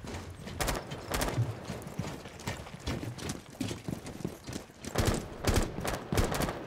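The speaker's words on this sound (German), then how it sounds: "links und rechts Schüsse" Rapid bursts of gunfire in Rainbow Six Siege crackle in irregular clusters, some sharp and close, others more scattered, with no voices.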